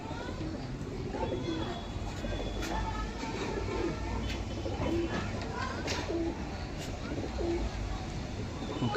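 A male and female pair of pigeons coo repeatedly in short, regularly spaced calls, close and clear, while someone talks over them.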